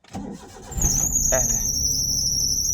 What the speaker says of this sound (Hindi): यहाँ पर हम कर लेते हैं अपनी गाड़ी को स्टार्ट।